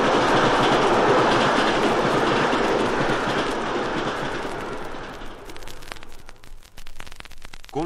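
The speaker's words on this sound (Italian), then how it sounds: "Lei è abituato ad ascoltare un treno in corsa con la normale tecnica riproduttiva" A speeding train rushes past in a 1965 conventional mono recording, a loud, dense rumble with rhythmic clickety-clack from the wheels that fades over the last few seconds.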